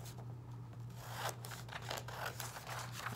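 Scissors snipping through paper number flashcards, a quiet run of close, crisp cuts and rustles with no talking.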